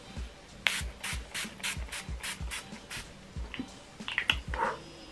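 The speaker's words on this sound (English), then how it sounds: "I'm just gonna spray that all over my face" Repeated short bursts of makeup setting spray onto a face, about a dozen quick hissing pumps in a steady rhythm, close up, with faint rustling near the end.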